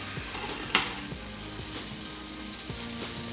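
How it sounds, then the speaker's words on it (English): Bacon and egg noodle stir fry sizzles steadily in a hot pan after stir fry sauce is added, a constant close hiss with one sharp clink of a utensil and light stirring scrapes, no talk. "Tim, I'll get you to put in some of that stir fry sauce"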